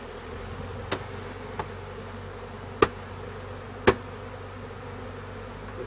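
A honeybee swarm being poured into a hive outdoors, a continuous low buzzing hum with a few sharp knocks and taps scattered over it.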